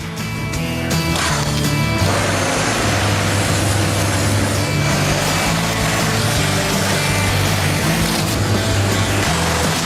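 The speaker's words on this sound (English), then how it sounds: "The steam cleaner I'm using is a top-of-the-range, powerful model" A steam cleaner blasts the engine bay of a Mercedes-Benz G-Class, a steady loud hissing roar with a constant low hum running throughout, close up and uninterrupted.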